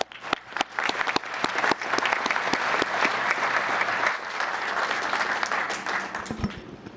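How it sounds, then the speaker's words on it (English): A round of applause at a town council meeting, steady moderate clapping from the room lasting several seconds with a few sharper individual claps. "please let's give them a round of applause"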